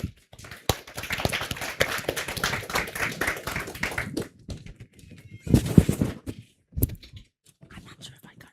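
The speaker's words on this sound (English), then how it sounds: "I'm not sure if I got people to clap after you spoke." An audience at a panel discussion on economic and financial policymaking breaks into a few seconds of dense applause, then the clapping thins to scattered claps alongside a brief voice.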